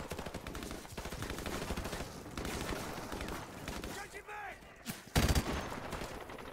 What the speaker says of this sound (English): Using a nice saw machine gun